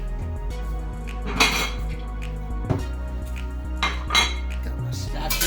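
A metal spatula scrapes and clinks across a new Lodge cast iron skillet in a few separate strokes, with a faint hum in the background.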